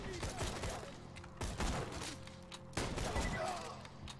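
A shotgun fires in the Borderlands 2 co-op shooter: three loud, sharp blasts land about a second and a half apart over a busy low rumble of combat.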